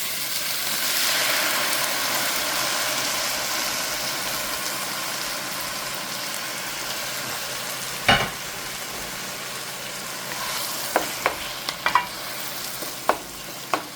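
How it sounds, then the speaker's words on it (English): Tomato sauce goes into a hot pan for dirty rotini and sizzles steadily, a soft continuous frying hiss with a few sharp clicks and scrapes of stirring toward the end. "Now I'm going to add the tomato sauce."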